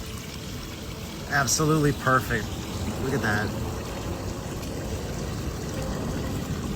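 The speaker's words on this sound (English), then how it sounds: "emptying the kiddie pool" Water rushes out of a kiddie pool being emptied at a forest spot, a steady broad wash that runs the whole time, with people talking over it near the start.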